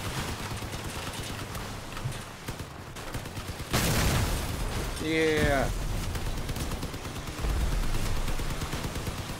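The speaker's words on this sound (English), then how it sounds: "Machine guns really work out." Machine gun fire from a vehicle in the combat game Crossout rattles in rapid bursts over a steady engine drone, with another burst of heavier gunfire and a brief spoken word.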